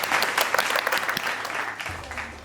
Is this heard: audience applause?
yes